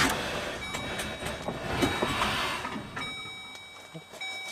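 A 5.3 LS-swapped Firebird engine runs rough with a jury-rigged mass airflow sensor, giving a steady, close, noisy rumble with a thin whine on top and a few sharp ticks, with no talking.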